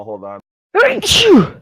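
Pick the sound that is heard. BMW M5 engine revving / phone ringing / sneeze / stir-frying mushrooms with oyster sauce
sneeze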